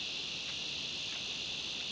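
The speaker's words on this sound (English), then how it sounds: "The sound of summer with the cicadas still going." Cicadas in summer near a boat ramp car park at Patonga on the Central Coast, a loud, continuous high-pitched buzzing drone with faint pulses, steady throughout with no speech.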